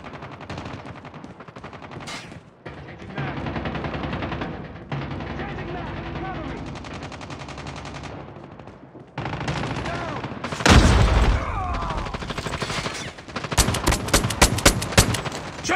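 Gunfire in Call of Duty multiplayer on a scrapyard map, loud bursts of automatic weapon fire and single shots in uneven clusters, with sharp explosive cracks near the end.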